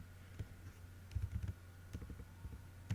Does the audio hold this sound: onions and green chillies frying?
no